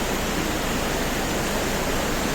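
Soapy, dirty bathroom wastewater pours out of a drain into an open channel, a dense, continuous rushing wash that stays loud and steady with no voices.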